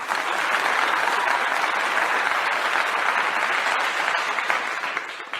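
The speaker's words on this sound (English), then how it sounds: "I got to give her a clap on that." Steady, dense applause from a crowd, even and fairly loud throughout, tapering slightly at the end, with no voices over it.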